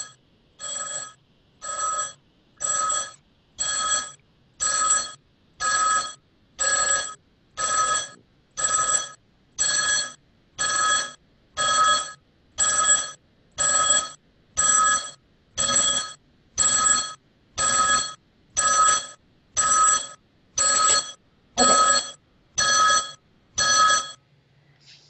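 A telephone rings inside a simulated indoor environment for audio-visual navigation, a steady series of about twenty identical electronic rings, each roughly half a second long with short even gaps, clear and fairly loud with no talking.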